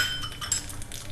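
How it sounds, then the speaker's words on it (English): Metal spoon scraping and clinking against a cooking pot while black gram dal is stirred, a light, steady run of small taps and scrapes heard alone. "Stir them well."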